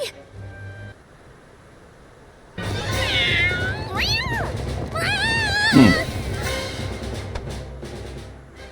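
Cats meowing in the video game Visions of Mana, several chatty meows and trills in quick succession over a steady game music bed, fairly close and clear.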